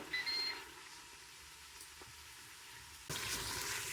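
An electric pressure cooker gives a short two-tone beep as its saute function is switched off, quickly followed by faint sizzling from the cooking chili, then a louder rush of sizzle and clatter close by.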